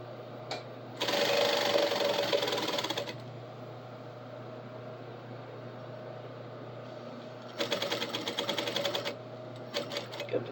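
Sewing machine stitching a pleat in two short bursts of rapid mechanical whirring, with a steady low hum between runs and a few faint clicks near the end.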